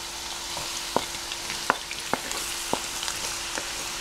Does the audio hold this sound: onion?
yes